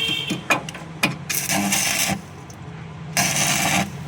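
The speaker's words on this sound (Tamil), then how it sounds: "அப்படியே பாருங்கள், கீழே வெல்டிங் சவுண்டு கேட்கும்" Arc welding with an electric welding machine in a repair shop, a crackling, hissing buzz that starts and stops in bursts between sharp clicks and taps, fairly close and loud with no talking.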